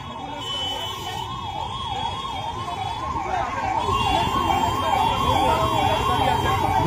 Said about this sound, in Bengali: অ্যাম্বুলেন্স সব আটকে রেখেছিল এখানে।